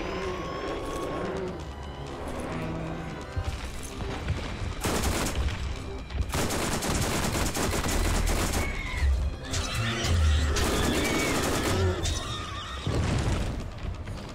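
Rakk creatures bursting apart in the Borderlands video game, a run of loud, punchy blasts layered over dense combat noise, gunfire and shrill creature cries, continuous for the whole stretch.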